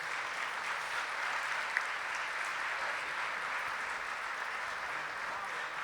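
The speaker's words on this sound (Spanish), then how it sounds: "Renovamos el aplauso para ellos." At a Semana Comex conference, the audience applauds the speakers with soft, distant, even clapping that holds steady for about six seconds.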